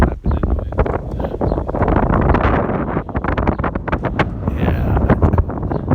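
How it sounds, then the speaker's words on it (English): Strong wind gusting over a hilltop farm beside a barn on a cold day, loud buffeting against the microphone, with plastic flapping in rapid irregular bursts close by throughout. "Look at that plastic flapping in the wind."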